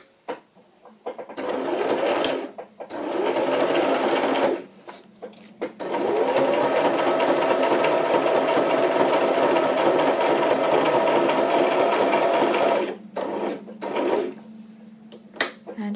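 A sewing machine runs close by while back stitching a paper matchbook for a bird journal, whirring in several bursts, a short one, then a long steady run, then brief stops and starts, with small handling clicks between them.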